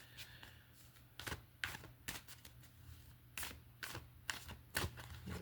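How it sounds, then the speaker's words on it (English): A deck of tarot cards is shuffled up close in a quiet room: a string of short, crisp riffling and flicking bursts, loud against near silence, with brief pauses between them. "I'm actually going to shuffle again."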